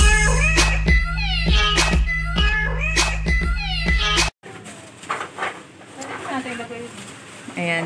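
A cat meows repeatedly up close in loud, drawn-out cries, then after a sharp cut more meows mix with talking voices.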